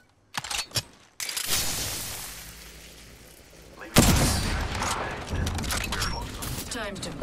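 Sniper rifle fire in a video game, with a loud close shot followed by a sustained burst of heavy gunfire and mechanical noise, while a player talks over it.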